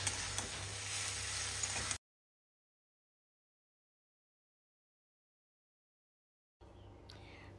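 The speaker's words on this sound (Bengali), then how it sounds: "শাক বেশ কিছুক্ষণ ভেজে নেবার পর" Kochu (taro) greens frying in a pan with turmeric and salt for an ilish fish-head dish: a steady, close sizzle for about two seconds, then a sudden cut to silence, with a faint sizzle returning at the very end.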